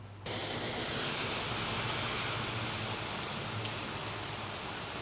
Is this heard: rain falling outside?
yes